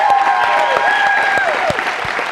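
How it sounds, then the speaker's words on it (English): An indoor audience claps in a dense, steady round of applause at a business event, loud and close throughout, with a few whistles or cheers rising over the clapping. "And Denny Southern, y'all clap for him."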